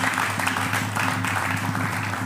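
Applause from a crowd at a regional church choir performance as a cantor is welcomed, a steady, fairly loud patter of clapping over a low sustained musical hum.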